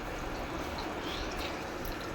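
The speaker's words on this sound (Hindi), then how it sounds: "थोड़ा सा पानी डाल के आप इसे पकाएंगे।" Water poured into a sauce for chicken shashlik in a home kitchen, a soft, steady broadband wash of liquid that stays even and close throughout, with no voices over it.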